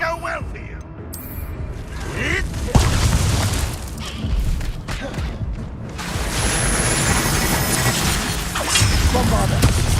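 Bombarda explosion spells in Hogwarts Legacy hit with heavy booms and thuds amid chaotic battle noise, and a voice calls out spell names between blasts.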